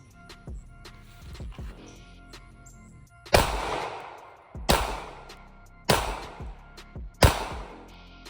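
Four loud, sharp gunshots at an outdoor shooting range, spaced roughly a second apart and each ringing out in a short decaying echo, preceded by quieter thumps and rustling.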